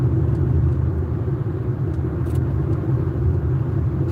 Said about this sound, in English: it's a little 4-cylinder car, but it's small and it just accelerates